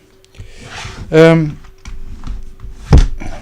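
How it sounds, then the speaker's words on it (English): A computer keyboard falls off a desk in a home mixing studio with one sharp, loud clatter near the end, following a short sung vocal phrase and some soft shuffling. "Sorry, my keyboard's just gone flying."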